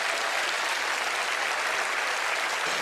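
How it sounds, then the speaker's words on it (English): An audience claps in steady, sustained applause, a dense wash of many hands at an even volume throughout. "A big round of applause for our very observant spectators."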